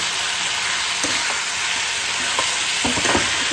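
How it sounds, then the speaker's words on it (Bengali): A fish curry base with ginger paste, cooked with ash gourd, sizzles and fries in a pan. A close, steady hiss runs throughout, and a few soft scrapes of stirring come through on top of it. "এটা একটু কষু, আদা পেস্ট আছে তো, একটু কষু।"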